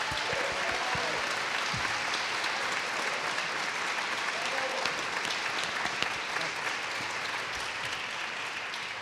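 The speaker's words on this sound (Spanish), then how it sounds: "Fuerte aplauso para él." Concert audience applauding a jazz performer, a sustained full round of clapping with a few louder claps and faint voices mixed in throughout.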